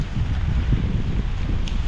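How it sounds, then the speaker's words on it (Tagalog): Strong wind gusts rumble steadily against the microphone, a low continuous blustery roar with faint rustling and no talking. "Malakas lang ng hangin."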